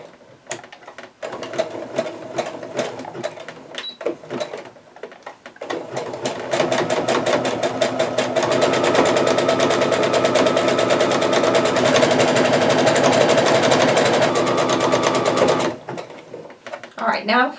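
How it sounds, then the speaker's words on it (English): A sewing machine set to zigzag stitch sews in place on a fabric face mask with ties: a few short, close stitching bursts, then a long, steady, loud run that stops abruptly near the end. "I'm going to sew in place quite a bit there"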